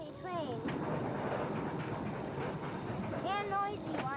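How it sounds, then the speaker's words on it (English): A noisy moving train in New York rumbles and clatters loudly and continuously, with brief high squeals of wheels or brakes near the start and end, and people talking faintly beneath it. "We're on this lovely train."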